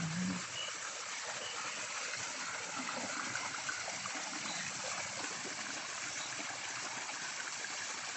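Water runs quietly and steadily along a man-made creek in a park, a faint, continuous trickling flow with no talk over it.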